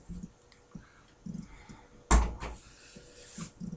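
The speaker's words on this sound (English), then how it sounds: "Fucking door opened." A door opens mid-review, heard as one sharp nearby clunk followed by a brief rattle against a quiet room background, with faint thuds and clicks before it.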